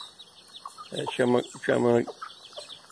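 Hens in a farmyard poultry pen cluck while eating scattered feed, with two loud, close clucking bursts in the middle and a voice speaking briefly around them.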